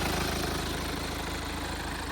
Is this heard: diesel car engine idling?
yes